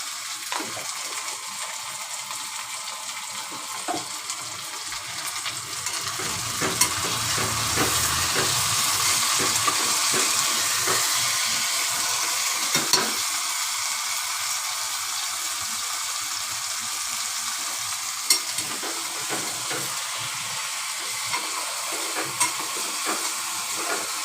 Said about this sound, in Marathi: बघू शकता बटाटे आपले जरा लाल चांगले छान हे परतून घेतलेत मी